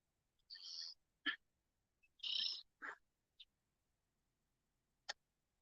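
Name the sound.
birds singing outdoors by a lake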